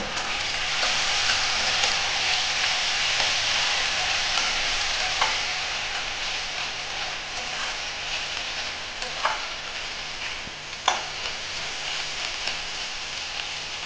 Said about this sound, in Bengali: এখন আমি এই চামচে 1 চামচ আদা বাটা দিচ্ছি, দিয়ে ভালো করে এই মশলাটাকে কষিয়ে নেব